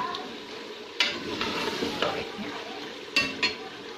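Bitter gourd and whole green chillies stir-frying in a pan, a close steady sizzle punctuated by several sharp spatula scrapes and knocks against the metal as the pieces are turned.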